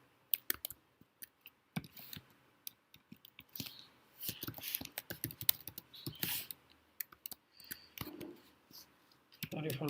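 A computer keyboard with a fault clicks and taps in quick irregular bursts, fairly quiet and close, with a faint voice in places.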